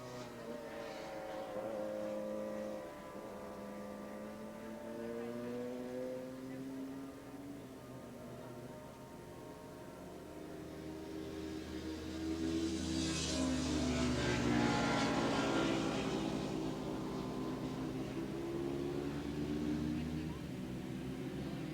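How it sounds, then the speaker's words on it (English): Two-stroke 450cc stock production motorcycles race at Willow Springs in 1986, their engines whining and rising in pitch as they pass, steady and moderately distant beneath continuous announcer commentary. "But Lance Thielman on that very brightly colored Formula 3 bike in a pretty good lead right now over Rye Halfley."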